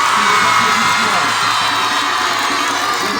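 At a Dakar school prize ceremony, a large crowd applauds and cheers loudly, with whoops and children's shouts in a dense, steady roar.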